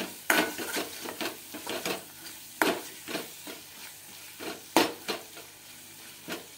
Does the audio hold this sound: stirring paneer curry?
yes